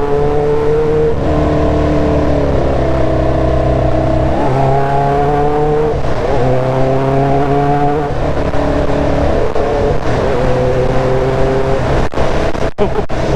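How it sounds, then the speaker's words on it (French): Honda CB 500 Four café racer, an inline-four motorcycle on carburettors with a Martin exhaust, revving loudly through the gears in repeated rising, wailing climbs and dips, close and sustained, with a few sharp clicks near the end. "Le 4 cylindres en ligne, entièrement libéré à carbuche. Avec cette ligne Martin, ça lui donne un bruit mais hallucinant quoi."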